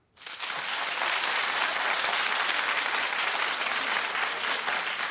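A studio audience at a television talk show breaks into sustained applause, a dense wash of clapping that rises quickly and holds steady, loud and without talk.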